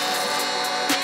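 A vibrating sander fitted with 120-grit paper grinds over a concrete half pipe, a steady buzzing drone with a gritty scraping texture, close and continuous through a brief moment with no voices.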